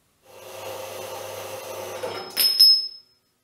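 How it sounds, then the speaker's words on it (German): Steady back-and-forth rasp of a hand saw cutting steel tube, ending with a brief ringing clatter as the cut finishes. "das zweite Rohr ist gesägt"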